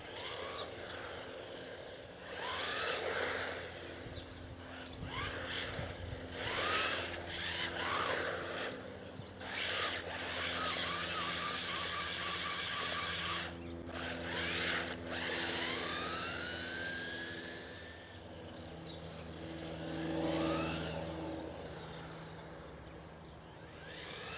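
A WLtoys 124019 radio-controlled car runs with a thin, high electric motor whine that rises and falls with throttle, sometimes sweeping up in pitch, steady and moderately close with no talking.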